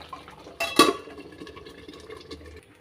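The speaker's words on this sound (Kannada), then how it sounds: "ಮತ್ತೆ ಇದನ್ನು ಮಿಕ್ಸ್ ಮಾಡೋಣ" Tomato chutney being stirred in a pan, with a sharp metallic scrape of utensil against pan, then softer wet stirring and light clinks that fade out.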